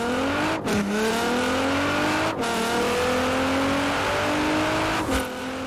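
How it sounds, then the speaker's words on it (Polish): A car engine in Forza Horizon 4 held at maximum revs with gas and brake pressed together, a loud steady high-pitched drone that wavers and briefly dips three times as the throttle is adjusted. "jak już nacisniemy gaz i hamulec, no to samochód wchodzi na maksymalne obroty"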